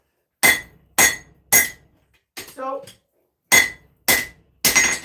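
Hammer strikes ring on metal at the anvil while an axe is forged: three sharp clangs, a brief spoken word, then four more bright, ringing blows, close and loud.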